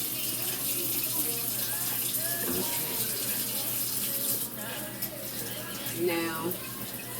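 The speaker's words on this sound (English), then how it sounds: "So I'm going to wash my hands again." A kitchen tap runs steadily as hands are washed at the sink during cooking, a continuous close rush of water with brief splashes while a person talks briefly over it.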